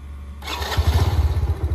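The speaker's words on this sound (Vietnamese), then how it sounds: "hai lẻ tư đây nổ máy luôn" A 2004 Honda Magna 50cc motorcycle engine cranks over and catches, then settles into a close, steady, throbbing idle with a rapid rhythmic pulse.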